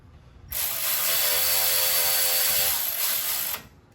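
A ratchet wrench tightens a metal brake line bracket bolt on a 2009-or-later Ford F-150 during front wheel hub bearing work, giving a steady, close, continuous clicking that runs about three seconds with no talking.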